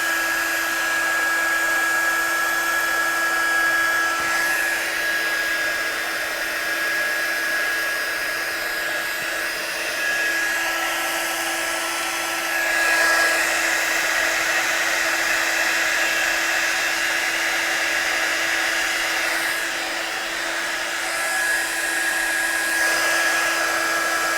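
A heat tool blows continuously to dry a watercolour card from the back, a steady close whooshing hum with a constant whine that holds throughout without pause.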